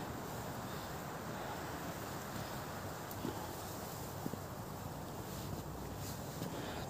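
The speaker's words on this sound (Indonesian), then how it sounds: "Sepertinya di atas anginnya cukup kencang ya. Terdengar dari suaranya" Strong wind on the summit of Mount Telomoyo blows steadily in a dense, rushing roar that buffets the microphone, with a few faint knocks and no talking.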